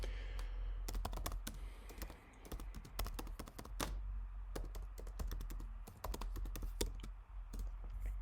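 Commands being typed on a computer keyboard, a steady run of close, crisp key taps with brief pauses and no talking.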